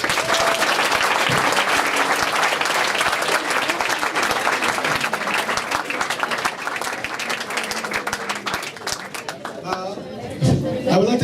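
An audience applauds after a talk by Dr. Aubrey de Grey on fighting aging and regenerative medicine, sustained crowd clapping that gradually thins toward the end as voices and murmuring chatter come through underneath.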